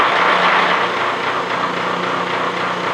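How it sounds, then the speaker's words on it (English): A metal-cutting machine tool takes a deep 150-thousandths cut, running without coolant, on a new steam chest valve yoke for the Vulcan steam locomotive, a steady close whirring and grinding drone that holds level throughout with no talk. "I'm doing 150 thousandths depth of cut this cut"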